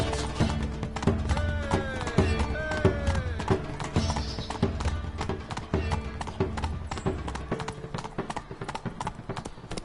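Roach the horse galloping in The Witcher 3, a steady rapid clip-clop of hooves throughout with a couple of neighs and whinnies early on, close and clear with faint background sounds.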